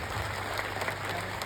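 Loud applause from a crowd at a Thakor community gathering, a brief, dense wash of many hands clapping at an even level with a few sharper claps standing out.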